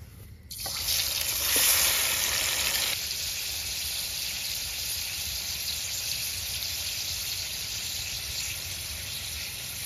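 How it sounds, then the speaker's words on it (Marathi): Food fries in oil in a pot over a wood-fire stove outdoors, a loud, continuous close-up sizzle that swells in the first few seconds and then settles into a steady hiss. "आता जरा फ्राय करतो, जरा तेल टाकतो तर बघा"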